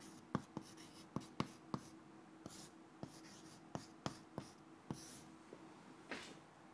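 Equation written on a board during a lecture on wire drawing: a run of sharp taps and scratchy strokes comes at an irregular pace, with quiet gaps and no voices.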